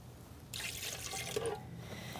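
Water poured into a bread machine pan makes a steady splashing stream lasting about a second, then fades to a soft residual trickle. The pour is fairly quiet and close, with no voices.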